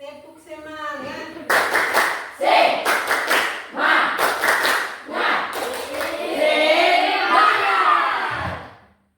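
A class of children claps out a rhythmic spirit-clap pattern in quick groups of beats, mixed with loud group chanting and an adult leader speaking at the start, all close and energetic.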